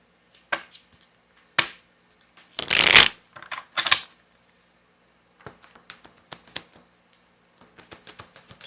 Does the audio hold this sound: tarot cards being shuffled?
yes